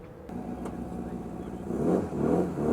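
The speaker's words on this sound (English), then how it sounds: "So one of the vintage cars coming in from the trials." A vintage car engine idles and then revs louder as it draws near at Silverstone circuit, a steady mid-pitched motor rumble swelling toward the end.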